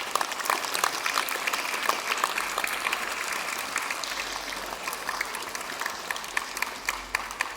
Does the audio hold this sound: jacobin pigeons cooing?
no